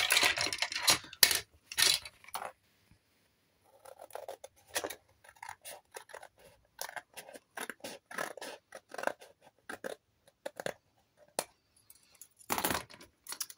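Scissors cutting paper for a recycled Christmas album: a series of crisp, close snips in uneven bursts separated by short pauses, with no talk.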